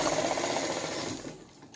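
A sewing machine runs a straight line of stitching along the border of a suit, a fast, dense mechanical whir close by that carries steadily and then tapers off as the machine slows to a stop.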